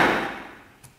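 A hammer strikes a sharpened metal hole punch resting on a plastic pad to cut through a rolled newspaper tube, one sharp knock that decays over a second, followed by a faint small tap.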